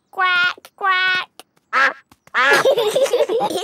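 A cartoon character's voice imitating a duck with two nasal, buzzy quacks, close and clear, followed by another short vocal sound and then excited speech.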